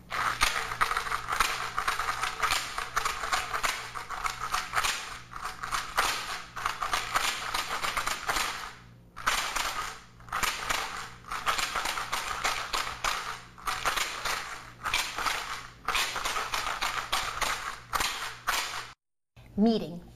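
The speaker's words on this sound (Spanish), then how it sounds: "Este instrumento está hecho con una botella de plástico. Yo le he puesto cáscaras de pistacho" A homemade shaker made from a plastic bottle filled with pistachio shells rattles in quick, dense bursts of clicky shell noise, shaken close by in repeated rhythmic runs with brief pauses between them.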